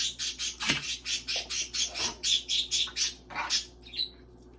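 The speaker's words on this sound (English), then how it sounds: "My poor birds, they've been tweeting up a storm." Pet birds at home tweeting in a quick run of sharp, bright chirps, roughly a dozen evenly paced calls ending in a single thin whistle, fairly faint and close with no talk.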